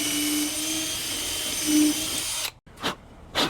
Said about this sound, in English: let's drill this other side